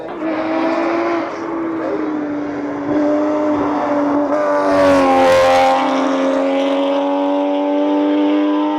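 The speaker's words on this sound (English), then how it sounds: "So that's the all-electric car from VW, and that thing has got so much torque, and we're just sliding it here" An all-electric VW race car at a hillclimb gives a loud, sustained whine that rises and falls in pitch as it slides through a corner, with a brief surge of noise in the middle.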